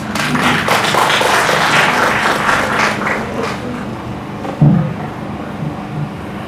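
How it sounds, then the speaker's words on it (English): Sustained applause from a large audience welcoming a speaker at a students' convention, a dense continuous wash of clapping that holds steady and then thins slightly, with a single thump near the end. "Please welcome him with a round of applause"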